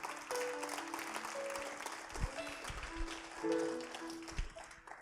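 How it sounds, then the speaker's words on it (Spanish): A church congregation claps together during a Spanish-language testimony, a moderate, fairly distant patter of hands with a few sharper claps and sustained tones from instruments beneath. "Dale un aplauso a él."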